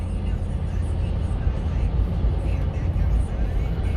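A 2004 Toyota 4Runner Limited V8 drones steadily from inside the cabin as it kicks down to fourth gear, a low continuous engine and road rumble with no clear shift event standing out.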